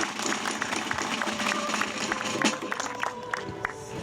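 Audience clapping at a Músics per la Llibertat concert in Sant Quirze del Vallès, a dense, steady patter of many hands with crowd murmur and voices mixed in throughout.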